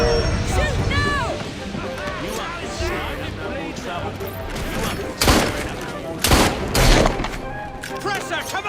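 Gunfire erupts in Assassin's Creed Syndicate, with a few sharp, loud shots and booms cutting through a busy mix of game sounds, shouting voices and crowd noise.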